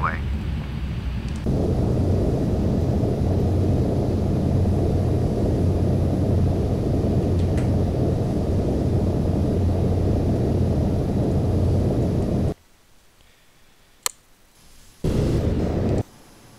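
A simulated airliner in Microsoft Flight Simulator X lands at Darwin International, a loud, steady engine and rumble roar that cuts abruptly into near-silence, followed by one brief burst of noise.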